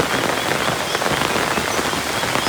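Rain falls steadily in a village, a dense, even patter that stays loud and unchanging throughout, with no voices.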